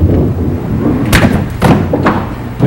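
A 5-pin bowling ball strikes the pins in a televised tournament game, giving several loud broadband thuds and clattering hits over a constant hall murmur.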